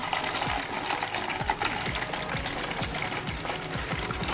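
Water rushes steadily from a pipe into a tank fitted with a smart level controller with dry-run protection, a continuous broadband gush with a faint repeating pulse running through it and no talking.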